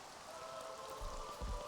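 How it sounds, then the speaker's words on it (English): Rain summoned in the video game Xenoblade Chronicles 3, a steady hiss of falling drops with soft low thumps of droplets hitting surfaces, fairly quiet throughout with no voices. "This 22-year-old just summoned the rain."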